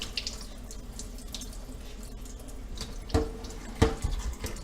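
Kitchen faucet running into a sink as raw pork is rinsed, a steady close splashing stream with a couple of louder splashes and knocks as the meat is moved under the water.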